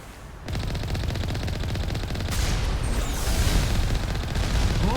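Video game turrets at a compound open up in rapid, dense bursts of automatic fire, loud and close, layered with booms and continuous gunfire that swells and stays intense through the whole stretch.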